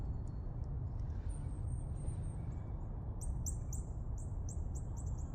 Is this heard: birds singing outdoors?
yes